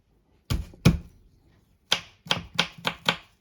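Garlic cloves smashed and chopped on a cutting board while preparing a Mediterranean vegetable dish: two heavy thuds, a pause, then four quick, crisp knife chops close up.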